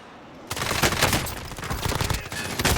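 Dense, loud automatic gunfire in Call of Duty Warzone starts abruptly after half a second of quiet and keeps going as rapid overlapping shots and bursts, close and continuous to the end.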